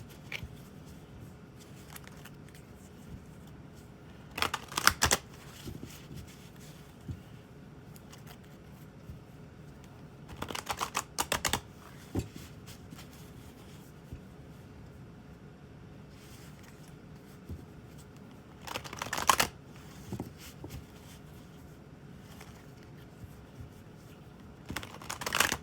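Quiet tarot card shuffling comes in three or four short bursts of crisp riffling and crinkly rustle, separated by long stretches of near silence.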